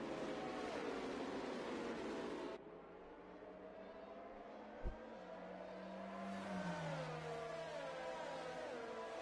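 Race car engines drone around a track in a racing video game during a safety car period, with a steady broadband roar dropping to a quieter hum partway through, a single sharp tick near the middle, and engine tones sliding in pitch.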